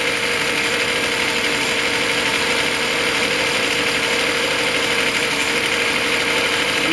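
A Reliant engine from a Bond Bug runs on a test bench in a shed, a steady, even idle with a constant mechanical drone and a faint high whine, close and unbroken the whole time.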